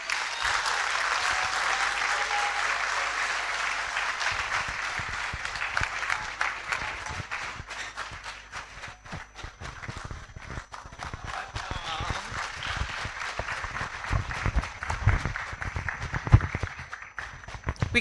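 An audience at an academic conference honouring a retiring professor gives sustained applause. It is strongest at the start, thins to scattered claps and then swells again, with voices speaking over it.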